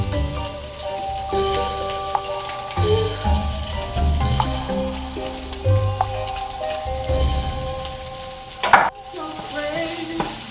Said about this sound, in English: I'm going to add in the garlic.